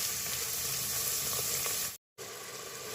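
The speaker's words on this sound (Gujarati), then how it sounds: "ડુંગળીને આપણે હવે શેકાવા દઈશું" Onions sizzle and fry in a pan with a steady crackling hiss, briefly cut off by a moment of silence before the sizzling resumes.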